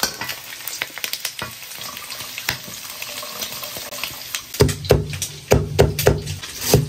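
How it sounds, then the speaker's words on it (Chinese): Pork belly frying in a wok for braised red-cooked pork, a constant sizzle punctuated by sharp spatula clanks and scrapes that grow busier and louder toward the end. "给它继续煎炒"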